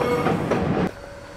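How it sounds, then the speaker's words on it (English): A small train rumbles and clatters past nearby in Palma de Mallorca, its rolling noise fading out abruptly near the end. "Look at that little train going past."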